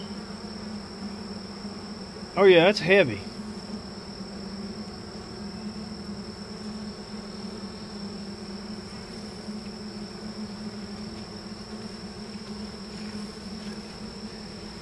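Honeybees at a horizontal hive hum in a continuous, even drone, close by, with a brief spoken remark near the start.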